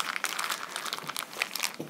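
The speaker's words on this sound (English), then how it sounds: "just put it in a plastic bag and turn the bag over." A plastic bag filled with cake glaze made with vanilla crinkles and crackles close up, a busy stream of small rustling crunches as it is handled and turned over.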